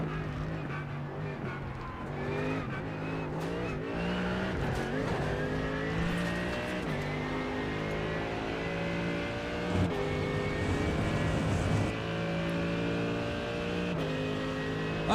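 A race car in the video game Le Mans Ultimate revs through the gears with a loud, close engine note that repeatedly climbs and drops through corners and chicanes, with occasional tire squeal.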